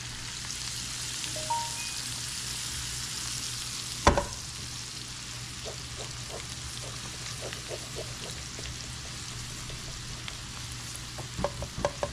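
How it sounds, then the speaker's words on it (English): Flour roux for beef stroganoff cooks in a pan with a continuous close sizzle and crackle, broken by a sharp clack of a utensil and a few scattered light taps and stirring scrapes. "So I'm just going to make a little bit of a roux. I want this to cook down a little bit so we don't get the flour taste"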